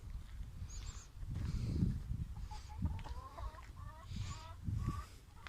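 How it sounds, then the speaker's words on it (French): Domestic geese kept with hens give low, throaty honks and clucking calls in a loose, repeated rhythm, faint and close-by, with a higher squeaky call now and then. "Je vais vous montrer les oies, comment elles vont super bien."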